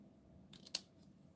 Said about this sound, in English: So I am going to snip this